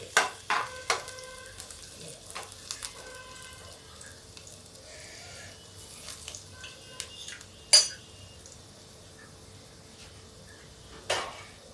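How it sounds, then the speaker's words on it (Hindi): Garlic cooking slowly in a little oil over low heat for an eggplant dish, with a faint, quiet sizzle under scattered clinks of a spoon against the pan. "तेल कम है इसलिए धीमी आंच पे इसको लहसुन को पका लीजिए, जले नहीं।"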